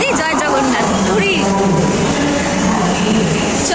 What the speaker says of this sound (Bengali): ট্রেন এসে গেছে, আমরা যাচ্ছি